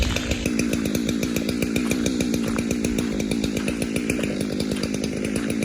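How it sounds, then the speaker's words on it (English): A chainsaw runs continuously nearby, its engine buzzing with a rapid rhythmic pulse throughout, loud and steady with no voices. "So when he starts the chainsaw, they all come running."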